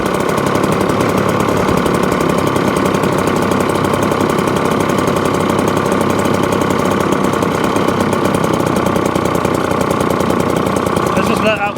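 Vintage 1954 Atco Villiers Midget kick-start lawn mower engine running steadily close by, a loud, continuous rapid-firing putter with a buzzy mechanical chatter that holds even throughout before cutting out at the end.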